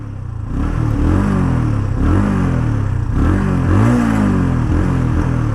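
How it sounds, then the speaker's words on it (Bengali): A TVS Apache RTR 160 2V motorcycle engine running close and loud, a steady throbbing note that rises and dips with several revs, with no speech. "এই অ্যাপাচি আরটিআর 160 এই বাইকটার আমার কাছে সবথেকে যেটা ভালো লাগে ওটা হলো এটার ইঞ্জিন নোট।"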